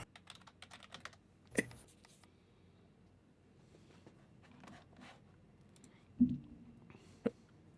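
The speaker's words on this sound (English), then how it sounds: "He might let it rip on his keyboard." Fast, irregular typing on a computer keyboard, fairly close and quiet, with bursts of light key clicks, a few louder thuds and pauses between runs.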